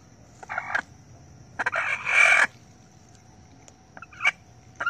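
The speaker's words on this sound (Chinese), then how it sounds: "按推时鸡叫得特别厉害" A lame hen squawks loudly in harsh bursts while its leg and back are pressed and rubbed. It gives a short cry, then a longer, louder screech, then a brief final call, all close by with quiet pauses between.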